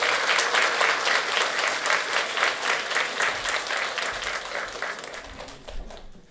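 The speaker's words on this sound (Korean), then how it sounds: "힘찬 박수와 함께 축하식을 마치도록 하겠습니다" A church congregation applauds at the close of a celebration during a welcome Mass, steady dense clapping from many hands that stays loud throughout and tapers slightly near the end.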